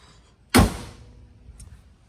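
A carbon fiber door on a Mk3 car shuts with a single sharp, loud thunk that decays quickly, followed by a faint click a moment later and quiet background.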